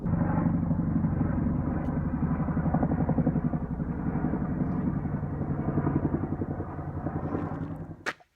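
A heavy, thudding rotor rumble holds steady and loud throughout, a large twin-rotor helicopter passing close overhead, with a brief sharp click near the end.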